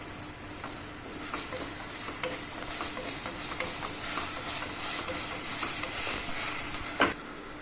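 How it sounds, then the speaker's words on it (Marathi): Sambar masala being stirred into dosa filling in a pan: a continuous soft hiss and sizzle with light scraping stir strokes throughout, ending in one sharper scrape, close and even, with no talking. "हा मसाला यामध्ये मिक्स करत आहे मी"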